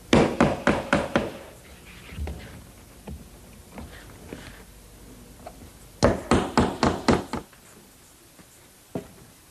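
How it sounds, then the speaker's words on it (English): Hammer blows tacking a straight edge onto a shingled roof, struck in two quick bursts of about six sharp, close knocks each, with a few scattered lighter taps in between. "I'm going to tack on a straight edge and lay down the next course"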